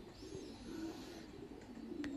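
Pigeons coo softly at a pigeon farm, low rolling calls repeating under a steady hum of fans, faint and fairly distant.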